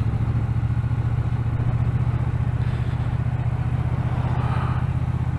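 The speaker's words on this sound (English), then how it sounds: "they've made the end of the exhaust very narrow, so it gives it that nice boom noise" Triumph T120 Bonneville twin engine with narrow-ended retro-style exhausts, a steady, loud, close low thumping idle that keeps its even rhythm throughout with no voices.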